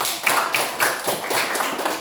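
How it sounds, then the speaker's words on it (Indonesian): A classroom group of students claps for a student group after a presentation, giving a short burst of brisk, uneven hand claps at moderate volume with no talking over it. "tepuk tangan untuk kelompok"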